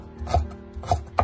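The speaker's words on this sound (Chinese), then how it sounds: "最后再改刀把它切成蒜末" A kitchen knife chops garlic into mince on a cutting board, three distinct dull chopping knocks, close and fairly quiet, with no talking.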